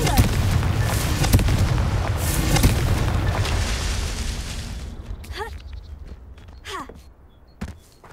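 Confringo fire-blast spell cast in Hogwarts Legacy: a loud, rumbling burst that roars for several seconds, thins out, then gives way to a few sharp crackling pops.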